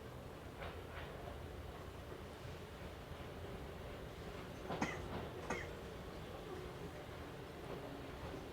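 Izuhakone Railway 3000 series electric train running between Mishima and Shuzenji, a steady low rumble and hum of the car in motion with a couple of brief rattling clacks near the middle.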